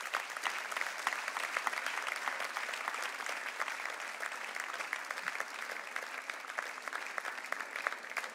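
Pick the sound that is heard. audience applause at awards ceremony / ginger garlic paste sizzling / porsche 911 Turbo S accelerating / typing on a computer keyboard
audience applause at awards ceremony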